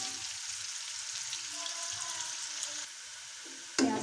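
Chopped onions frying in oil toward light golden brown for chicken yakhni pulao, a soft steady sizzle with faint stirring, then a brief louder clatter near the end.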